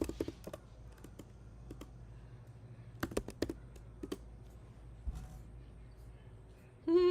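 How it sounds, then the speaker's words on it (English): Fingers type on a computer keyboard in short bursts of quiet clicks and taps. Faint room noise runs underneath, and a voice starts briefly at the very end. "I'm going to type in cute ghost."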